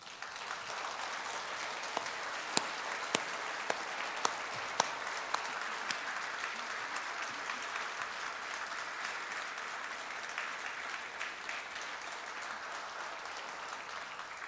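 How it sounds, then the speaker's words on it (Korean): A standing church congregation at a Sunday worship service claps together in a long, steady ovation, with a few sharper individual claps popping out early before the sound settles into an even, continuous patter. "경신교회를 축복하시는 하나님께 영광의 박수 한번 치라고 하면"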